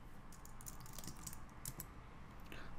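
Code being typed on a computer keyboard, a steady patter of soft key clicks at close range over a faint background hum, with no talk.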